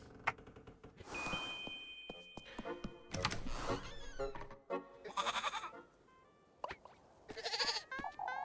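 A goat bleats repeatedly in the Little Goody Two Shoes video game, loud wavering cries in several bursts mixed with short mechanical clicks and game effects, no talking.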